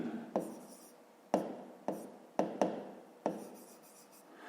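Pen writing on paper during a fifth-grade maths exercise, heard as six distinct scratchy strokes at an uneven pace, close and fairly quiet, with no talk.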